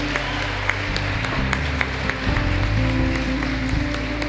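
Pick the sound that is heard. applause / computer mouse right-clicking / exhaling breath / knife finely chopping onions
applause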